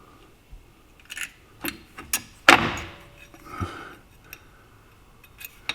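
Metal clicks, clanks and scrapes ring out sporadically as rear brake shoes and an emergency brake equalization bar are fitted on a 1955 Packard Patrician, with one louder clatter midway amid quiet pauses.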